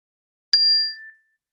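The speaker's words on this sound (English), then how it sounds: "I will go ahead and get us started with a bell" A single clear meditation bell strike rings out in silence, its bright tone fading smoothly over about half a second.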